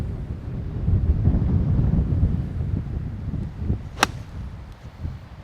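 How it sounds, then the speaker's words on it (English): A strong breeze gusts across a dunes golf course at Barnbougle Dunes, buffeting the microphone with a continuous low roar and one sharp crack partway through. "There's a decent amount of breeze."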